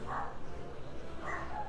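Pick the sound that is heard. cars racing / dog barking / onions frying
dog barking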